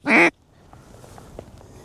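A single loud duck quack in a dry field during a hunt, followed by faint, scattered calls from more ducks in the distance.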